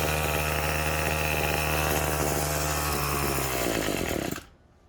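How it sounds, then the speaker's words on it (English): A repaired Weedeater lawn mower engine runs loud and steady at close range with a rough, buzzing drone, then cuts off abruptly near the end, leaving quiet. "Maybe not the best mower, but it seems to be able to get the job done."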